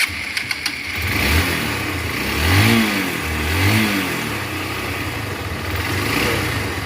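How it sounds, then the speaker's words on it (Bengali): A freshly rebuilt Hero Impulse 150 motorcycle engine idles up close and rises through a few short, smooth revs that fall back to an even idle, with no voices. "শুনতে পাচ্ছেন গাড়ির সাউন্ড একদম স্মুথ হয়ে গেছে।"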